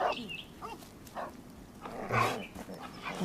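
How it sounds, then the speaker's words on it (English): Several dogs bark in bursts across a farm-like outdoor scene in a drama, a mix of near and slightly distant woofs over background noise, with no clear talk. "Can't you shut those dogs up?"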